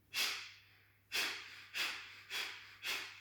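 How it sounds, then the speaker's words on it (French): Fast yoga breathing done in quick succession, five sharp breaths through the nose, each a short rushing burst with brief pauses between, close and fairly soft with a faint steady hum beneath. "On inspire, expire, inspire, expire, on continue."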